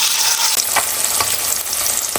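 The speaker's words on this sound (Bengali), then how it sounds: "মাছগুলো একদিকে ভাজা হয়ে গেছে" Hilsa fish frying in mustard oil in a wok make a steady, close, bright sizzle, with a few soft pops and stirring ticks scattered through. No one speaks.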